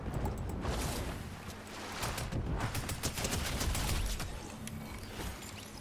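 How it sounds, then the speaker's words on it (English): Gunfire from the Fortnite video game, a dense run of rapid sharp shots and bursts over a busy steady game background, continuing for several seconds with no speech. "There's shooting happening."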